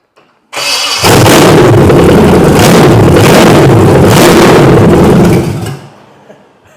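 1965 Chevy Malibu with a 327 V8 and no exhaust fitted cranks and fires, then roars loudly at a rough, lumpy idle for about five seconds before shutting off.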